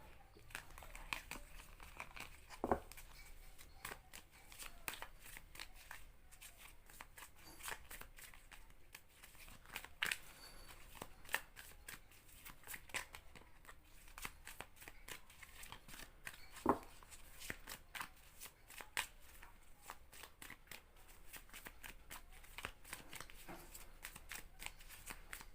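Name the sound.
shuffling tarot cards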